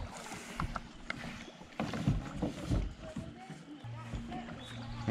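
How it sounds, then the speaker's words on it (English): Kayaks paddling on the Duck River in Tennessee, with paddle splashes and water sloshing close by, under background voices and some rustling. "paddle to your right"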